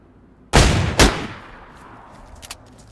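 Two sharp gunshots ring out in quick succession in DayZ Namalsk, loud and close, each followed by a decaying echo, then faint clicks and a softer crack.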